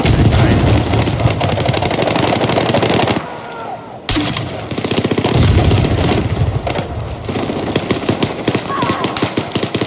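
Rapid bursts of weapon gunfire in the Battlefield 6 video game, loud and dense with a brief lull midway, firing continuing steadily to the end.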